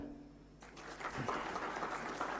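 Audience applause at a quantum technology workshop in Amaravati starts abruptly after a quiet moment and holds as a steady, moderately loud patter of clapping from the hall.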